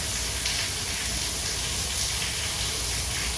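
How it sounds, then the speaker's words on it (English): A steam bath in the spa of the MSC Seashore cruise ship gives off a steady, broad hiss of steam that holds at an even level throughout, with no voices. "The bright sensory steam bath."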